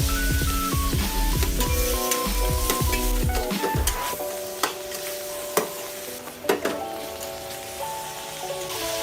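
Pork ribs are stirred in hot oil, a busy crackling sizzle with repeated scraping strokes early on, then sharper sporadic pops and clacks over a steady frying hiss, without speech.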